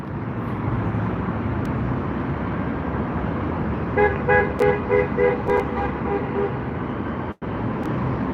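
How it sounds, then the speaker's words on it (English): Several car horns honk in a quick run of short toots amid steady roadway traffic noise, fairly close and loud over the constant rumble. "All these ones honking the horns."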